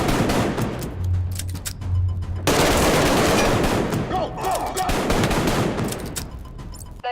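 Rapid gunfire in the VR video game Arktika.1, loud stuttering bursts of shots with brief gaps, then a heavier sustained volley, ringing clicks and impacts mixed in.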